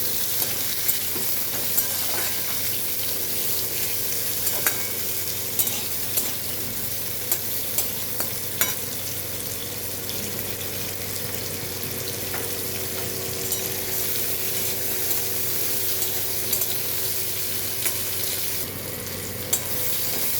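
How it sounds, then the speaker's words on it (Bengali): Mango pieces fry in mustard oil with popping mustard seeds, a soft continuous sizzle broken by light stirring scrapes and small crackles throughout, with no talk. "তো আমটা একটু ভেজে নিয়েছি।"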